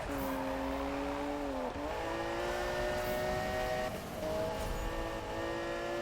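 A race car in Need for Speed (2015) drifts through a turn, its engine howling loudly with rising and falling revs, gear shifts and a hint of tire squeal.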